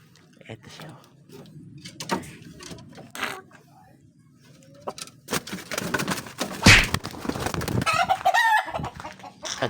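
Backyard chickens clucking with a rooster crowing, scattered calls building toward a louder burst near the end, while someone talks quietly throughout.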